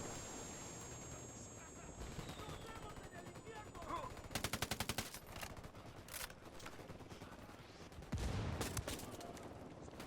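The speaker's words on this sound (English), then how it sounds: "Fucking hell, those mortars." Heavy combat in the Ghost Recon Wildlands video game, with automatic gunfire bursts and booming mortar impacts, loud and dense over a constant roar of battle, with a player talking briefly amid the shooting.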